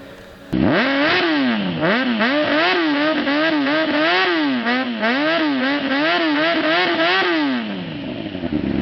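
A 2005 Honda CBR 600 motorcycle fitted with a Yoshimura exhaust revs hard and close, its engine climbing and dropping in rapid repeated blips for about eight seconds, loud and alone with no talking.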